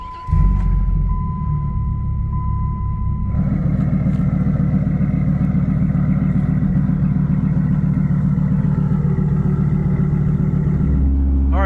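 A 500HP V10 Viper truck on a test drive, a loud steady engine drone close to the microphone that changes pitch as it pulls away and holds a constant rumble.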